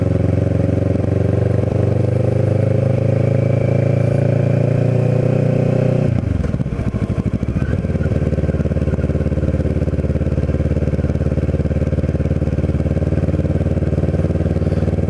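Kawasaki Ninja 650r motorcycle engine heard from the rider's seat, a loud steady hum that drops abruptly as the bike slows, then settles into a lower, even drone.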